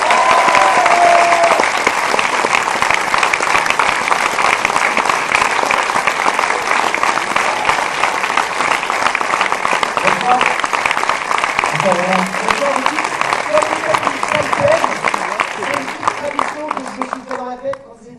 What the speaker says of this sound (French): Je vous demande d'applaudir comme il se doit le réalisateur de ce film, Romain Lévy.